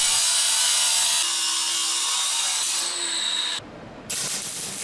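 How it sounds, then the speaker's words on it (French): A loud, steady high-pitched grinding whine of a circular saw biting into metal, dropping out briefly near the end before resuming. "La pièce est ensuite coupée à la scie à disque"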